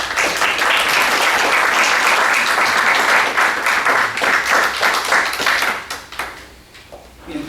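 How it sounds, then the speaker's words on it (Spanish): Strong applause from an audience at an evening tribute event in Lima, sustained and dense for several seconds before breaking into scattered individual claps at the end. "Quiero que por favor recibamos con un fuerte aplauso a Mariela Noles Cotito."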